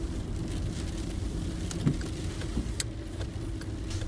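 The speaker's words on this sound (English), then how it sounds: "The car came to a stop." A car engine runs at a steady low rumble with light patter, as if rain, while the vehicle drives and comes to a stop outside a tall gray building near downtown Detroit; a faint thump rises briefly midway.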